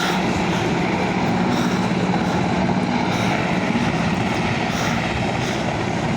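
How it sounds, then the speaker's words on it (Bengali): A helicopter flies overhead and comes down to land at a stadium in Pabna district, heard from a rooftop as a loud, continuous rotor and engine roar holding steady throughout. "এখন নেবে গেল এই যে আমাদের স্টেডিয়ামে নেবে গেল মহামান্য রাষ্ট্রপতির হেলিকপ্টার"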